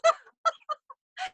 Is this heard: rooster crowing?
yes